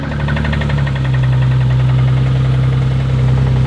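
An Infiniti G35 engine idles close by with rod knock, giving a steady, loud drone and a rapid, even knocking pulse that repeats throughout.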